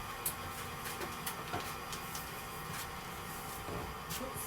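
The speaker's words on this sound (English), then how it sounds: "Add that egg and let it continue mixing." An electric mixer whirs continuously through cake or banana bread batter with eggs being added, a steady close motor drone broken by faint periodic clicks of the beaters against the bowl.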